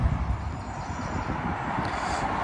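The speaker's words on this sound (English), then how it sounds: "apologies for the noise, because obviously we're next to the motorway," Steady roar of motorway traffic beside Membury services, a continuous broadband rumble with wind buffeting the microphone, no voices.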